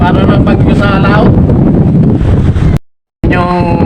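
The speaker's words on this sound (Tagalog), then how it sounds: "Sobrang lakas ng hangin." Very strong wind at sea near a fishing boat, roaring and buffeting hard against the microphone, with a short dropout near the end before the gusts resume; a voice is faintly mixed in.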